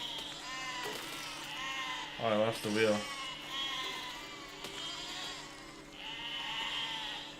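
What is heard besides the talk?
sheep bleating in the video game Besiege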